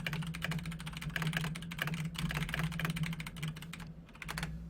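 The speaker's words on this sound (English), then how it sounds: "I'm going to type it out real quick." Rapid, continuous clacking of a computer keyboard as a chat message is typed during a Final Fantasy XIV dungeon run, close and busy over a low steady hum, then stopping briefly near the end.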